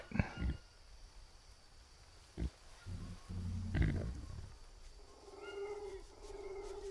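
A wild animal call, apparently a big cat, sounds in the Green Hell jungle survival game: brief growling roars near the start and middle, set against steady forest ambience and rising bird-like chirps later on.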